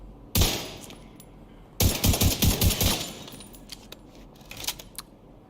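Rifle fire in The Division 2: a single sharp shot, then a fast string of about eight rounds, followed by softer clicks and a couple of lighter shots, close and loud.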